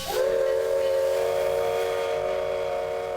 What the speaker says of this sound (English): Steam locomotive is alive.